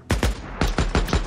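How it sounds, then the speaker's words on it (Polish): Six sharp gunshots fired in two quick bursts, loud and close, each with a short booming tail, in a video game firefight in Days Gone. "Celny strzał."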